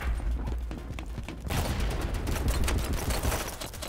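Rapid automatic gunfire rattles continuously in the shooter game BattleBit Remastered, starting at a distance and then swelling into a louder, denser volley nearby.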